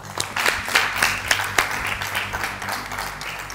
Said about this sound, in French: Merci, on va vous applaudir très fort.